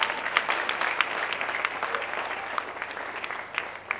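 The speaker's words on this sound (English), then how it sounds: "Please clap for them again." Sustained, dense applause from an audience at a comedy event in Lagos, steady and fairly close, with dozens of hands clapping and no clear talk over it.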